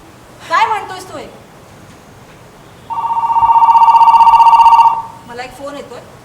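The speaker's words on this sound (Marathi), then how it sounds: "मला एक फोन येतोय, आपण नंतर बोलूया." A telephone rings in a stage play, one sustained electronic ring burst lasting about two seconds, with people talking just before and after it.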